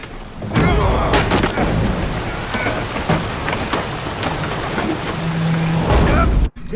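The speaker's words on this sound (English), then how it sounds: "Didn't bargain for no storm." A heavy storm with rain and thunder in the video game The Witcher 3: Hearts of Stone, aboard a boat. Dense, steady rainfall hisses throughout, punctuated by several sharp thunder cracks and rumbles.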